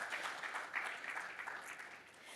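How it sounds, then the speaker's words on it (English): An audience applauds a conference panel on hyperscalers and real estate as it begins, a soft, steady wash of clapping heard from a distance and fairly faint. "Let's give them a round of applause as we start."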